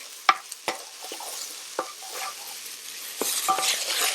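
Minced garlic cooking in a Ninja Possible Cooker sizzles steadily while a utensil stirs it, with several quick scraping taps close by.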